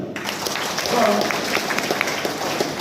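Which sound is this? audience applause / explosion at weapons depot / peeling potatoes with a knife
audience applause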